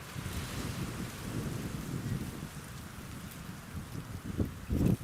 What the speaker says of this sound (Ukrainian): Сильний вітер, не знаю, який буде звук.